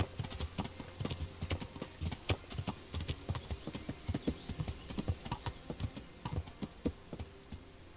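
Steady, rhythmic clip-clop of horse hooves trotting at a moderate pace in the video game Kingdom Come: Deliverance, close and clear against a faint ambient background.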